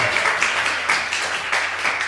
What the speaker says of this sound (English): Big round of applause for Amy!